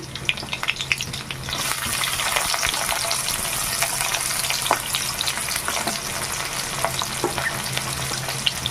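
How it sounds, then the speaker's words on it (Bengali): Crushed garlic, green chili and chopped onion hit hot oil with a loud, steady sizzle that swells after a quiet first second, with occasional scraping stirs, no voices. "তেলে দিয়ে দেবো কিছুটা রসুন থেতো করে নিয়েছি কাঁচা মরিচ আর দিয়ে দেবো পেঁয়াজ কুচি"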